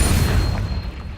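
A Confringo fire spell in the Hogwarts Legacy video game bursts as a single heavy low boom that rumbles and fades over about a second, close and loud.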